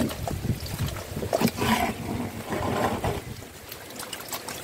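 Raw chicken is rinsed under running water, with uneven splashing and gurgling bursts that rise and fall as the meat is handled close by.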